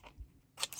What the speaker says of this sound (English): then we turn this over and we snip, snip,